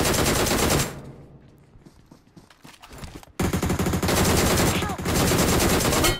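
Rapid automatic gunfire in the video game BGMI, loud dense bursts at the start and again through the second half, separated by a quieter gap with faint footsteps and scattered noises.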